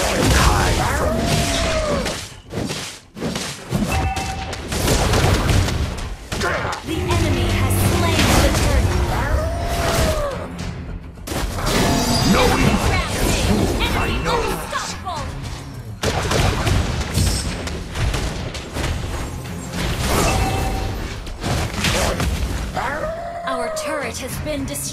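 Combat in the Mobile Legends video game as a hero attacks the turtle: dense, continuous booms, impacts and blasts layered over game music and character voice lines, loud throughout with brief dips.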